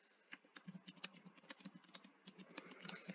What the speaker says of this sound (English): So I'm just going to type that, click Save.